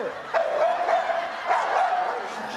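A dog barks a few times in short, spaced yelps over a steady background hum, fairly faint and at mid distance.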